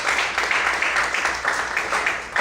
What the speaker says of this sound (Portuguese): Se você quer também, aplaude e glorifique ao Senhor